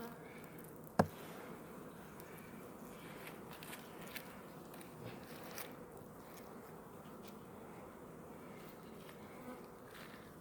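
Honeybees gather at the hive entrance after winter, buzzing in a soft, continuous drone close by, with one sharp click near the start and a few faint taps.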